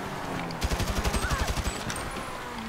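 Grand Theft Auto V gunfire during a trailer-theft mission, a clear burst of roughly a dozen evenly spaced rapid shots at mid-distance, rising out of the background and then fading back into ambient game noise.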